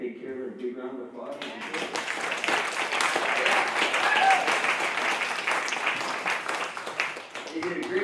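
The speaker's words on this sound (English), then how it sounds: "I think we should all give the people who cleaned it and take care of it a big round of applause." An audience at a community show breaks into sustained applause lasting several seconds, dense and steady, with voices mixed in before it tapers off.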